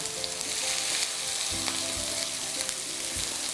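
Cumin seeds frying in oil in a pan give a steady, close crackling sizzle with a few soft stirring knocks.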